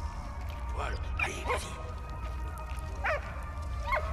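Small dog in the video game Valiant Hearts giving a few short yips and barks in two brief pairs, set under a steady low game background while someone talks.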